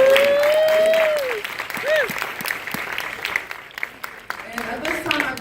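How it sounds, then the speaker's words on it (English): An audience at a documentary Q&A in Philadelphia gives a round of applause, moderately loud crowd clapping with a voice speaking over it, thinning out toward the end. "Let's give them another round of applause."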